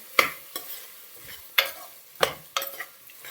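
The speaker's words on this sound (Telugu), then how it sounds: "ఇవి బాగా వేయించుకుందాం ఎర్రగా" Toor dal fries in oil with tomato and tamarind in a pan. About five sharp, separate spatula scrapes cut through a faint sizzle, close up, with no one speaking.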